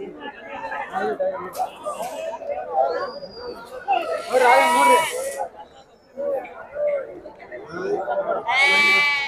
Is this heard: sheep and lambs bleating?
yes